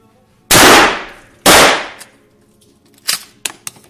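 Two loud, sharp 12 gauge shotgun blasts at a shooting range about a second apart, each with a decaying boom, followed by quieter clicks and clanks.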